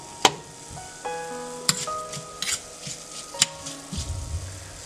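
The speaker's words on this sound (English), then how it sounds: "Once we roast these for 30 to 40 seconds, switch off the stove." Ingredients for masala avalakki roast in a pan on the stove, giving a soft sizzle broken by a few sharp clinks and scrapes of a spoon against the pan, near and intermittent.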